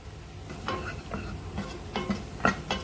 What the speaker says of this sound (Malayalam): ഒന്നും കൂടി വാട്ടിയെടുക്കാം. കൈപ്പയ്ക്ക നന്നായി വാടി വന്നിട്ടുണ്ട്.